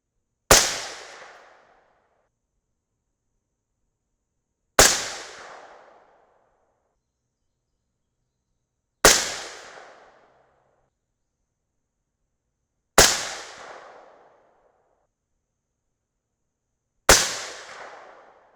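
Five suppressed .223 Remington rifle shots firing 77-grain Berger OTM Tactical loads over N540 powder, each a sharp, loud crack with a short decaying tail, spaced evenly about four seconds apart with silence between and no talking.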